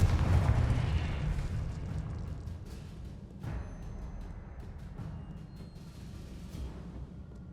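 A Confringo fire spell explodes in Hogwarts Legacy with one loud, deep blast at the start that rumbles and fades, followed by a few softer bursts and pops.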